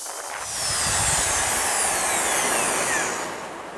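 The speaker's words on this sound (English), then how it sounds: "Now let's go ahead and drill through." A power drill whines steadily at close range as it bites through metal lubricated with cutting oil, its pitch holding for a few seconds before easing off.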